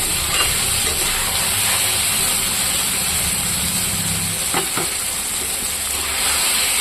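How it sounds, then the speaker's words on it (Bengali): Potato and aubergine frying in oil, a continuous close sizzle with brief stirring scrapes and pops, no one talking. "দেখুন বন্ধুরা, আলু বেগুনটা ভাজা হয়ে গেছে।"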